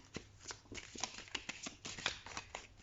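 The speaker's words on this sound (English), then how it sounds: "Shuffle these cards." Homemade oracle cards being shuffled by hand, a rapid run of crisp riffling slaps and flutters, close and fairly quiet, with no talk.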